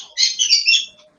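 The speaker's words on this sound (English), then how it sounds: "That's my loudmouth bird." A pet conure parrot lets out a loud, harsh squawk in a few quick close bursts, alone without talk.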